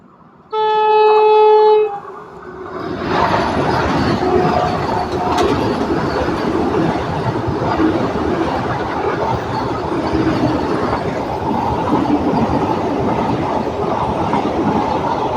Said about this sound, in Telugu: ఇదిగోండి బ్యూటిఫుల్ క్రాసింగ్ చూడండి వందే భారత్తో